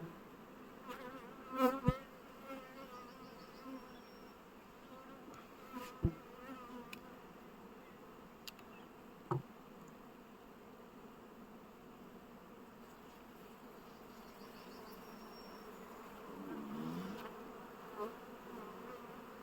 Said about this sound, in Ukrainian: бджола на виході